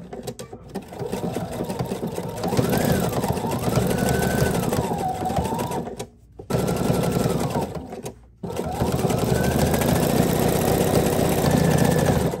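Domestic sewing machine working a blanket stitch around fabric petals on a beginner peekaboo quilt, a steady whirring motor with rising and falling speed, broken by two brief pauses, close and loud.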